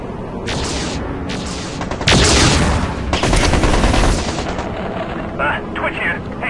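Heavy weapons fire in the mech strategy game MechCommander 2: dense, sustained volleys of loud cannon and gun blasts that swell to a peak midway, then thin into scattered shots, with a radio voice in the mix.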